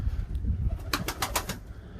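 Pigeons with newly hatched young in a loft give a short burst of wing flaps, a quick run of beats over a low rumbling background, close by.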